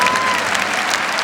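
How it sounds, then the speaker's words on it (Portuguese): A standing congregation claps strongly at a Catholic healing retreat, a brief burst of loud, dense applause. "Vamos nos levantando e aplaudindo com mais força."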